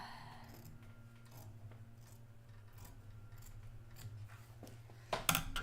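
Bent-handled fabric shears slice through fabric in a run of quiet, crisp snips close to the microphone, with no talking.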